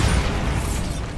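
A Bombarda explosion spell in Hogwarts Legacy erupts as a short, heavy, low booming burst that stays loud throughout the brief moment.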